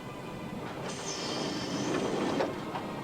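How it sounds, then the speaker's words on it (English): Train riding down the tracks, a steady close rumble of wheels on rail with a thin, high squeal of wheels running through the middle, swelling slightly before easing off. "once again the train began to ride down the tracks"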